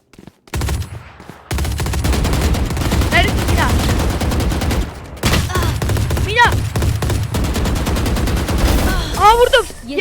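Rapid gunfire in the video game Valorant, loud near bursts of automatic shots running almost nonstop with short breaks, along with bright ringing effect sounds.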